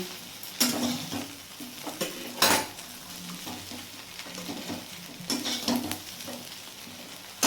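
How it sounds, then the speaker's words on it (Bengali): Soybean chunks fry in hot oil in a pan, giving a steady sizzle. Several sharp scraping bursts come from stirring with a utensil, close and fairly loud. "তাই আমি সয়াবিনটা এভাবে ভেজে নিই ভালো করে"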